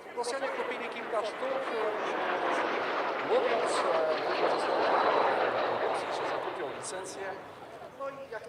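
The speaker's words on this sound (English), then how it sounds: "In the lead is an SB Lim 2 two-seat trainer, equivalent to the MiG-15 UTI" Airshow jet noise from an SB Lim 2, a Polish two-seat MiG-15 UTI trainer, flying overhead at Radom: a sustained broad roar that swells and then fades over several seconds, with a voice talking over it.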